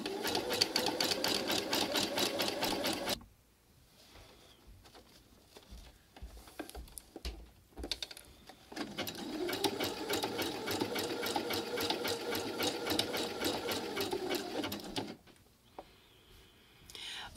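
Sewing machine stitches over a cord during free motion quilting on a mini sampler, two long bursts of rapid needle chatter separated by a quiet pause with faint handling noises and a short final start.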